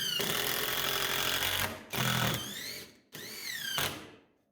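Drill driving a screw into a wooden board for a barn shelf: a loud, close, whining motor run in three bursts, the pitch sagging and rising under load, then stopping.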